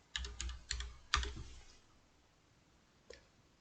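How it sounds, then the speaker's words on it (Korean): Close, quiet typing on a computer keyboard: a few quick key taps in a short run, a harder final press like Enter, then a single faint click after a pause, with no voice. "검색창에 JHS라고 입력하고 엔터를 칩니다"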